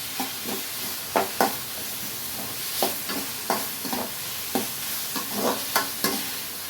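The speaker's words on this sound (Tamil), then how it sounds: "வெங்காயம் நல்லா வதங்கட்டும்." Onions sauté in a pan for a sardine curry, a steady close sizzle broken by a stirring spoon scraping and tapping at the pan every half second or so, with no voices.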